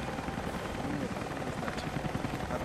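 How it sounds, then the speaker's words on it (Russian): A helicopter at a Soviet base in the video game Rise of the Tomb Raider, a steady rotor thrum holding at moderate distance under a character's voice. "Это вертолет Константина."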